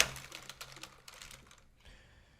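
Hands typing on a computer keyboard while searching text-editor documentation, a steady close patter of quick keystrokes that thins out briefly near the end before a final sharp tap.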